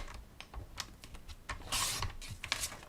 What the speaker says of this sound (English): You're just going to trim through all these pieces